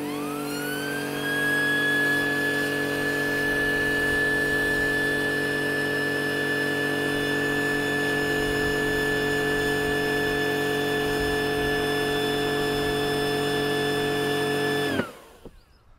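A Karcher pressure washer's pipe-cleaning hose with a small spinning turbine gives off a steady, loud whine with stable tones that rise slightly at the start, running continuously for about fifteen seconds before cutting off abruptly.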